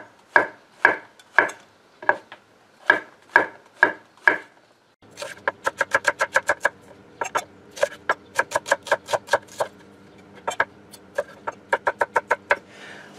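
Knife chopping mushrooms into coarse pieces on a wooden board, first in slow, evenly spaced loud cuts, then quicker bursts of crisp chops close by, with no talking.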